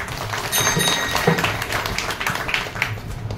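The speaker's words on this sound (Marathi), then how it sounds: "दादांसाठी सर्वांनी जोरदार टाळ्या वाजवा" An audience claps for an elder at a gathering. The claps are scattered and rise and thin over a few seconds, fairly close.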